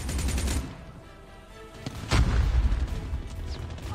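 Automatic gunfire from a Razorback weapon in the mobile shooter COD Mobile crackles in short rapid bursts, a brief rattle near the start and a louder sustained burst in the second half.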